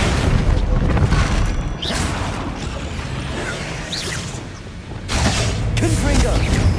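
Sendo spell cast during combat in Hogwarts Legacy on PS5, a loud, dense burst of magical booms and rushing whooshes with thuds layered over a constant roar of battle, filling the whole stretch.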